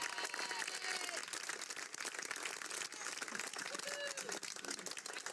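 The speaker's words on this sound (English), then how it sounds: "let's give a round of applause for the 2016 state qualifying Trojans." A crowd applauds the 2016 state-qualifying Trojans softball team, sustained dense clapping that sounds somewhat distant and thin, with faint voices mixed in.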